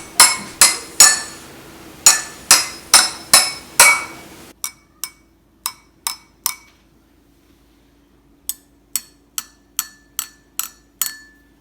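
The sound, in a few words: chopsticks striking water-filled glass jars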